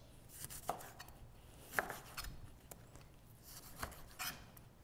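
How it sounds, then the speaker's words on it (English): A knife cutting a lime on a board for a pad Thai garnish, with a handful of soft, spaced chops and light scrapes, close and quiet with no talk. "I'm gonna quickly cut a lime for garnish"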